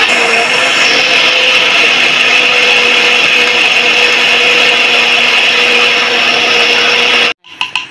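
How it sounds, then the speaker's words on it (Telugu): An electric mixer grinder whirs loudly and steadily, grinding chili powder and coriander seeds for a Rayalaseema-style oil brinjal curry, then cuts off abruptly after about seven seconds. "మిక్సీ పట్టేసుకుంటాం."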